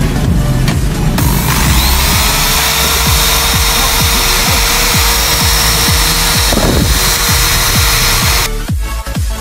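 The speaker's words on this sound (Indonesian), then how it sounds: "Kita bersihin pakai bor." Power drill whirring loudly and continuously up close while cleaning the valve area of a Yamaha N-Max scooter engine, with rapid scraping ticks and a brief dip in speed partway through.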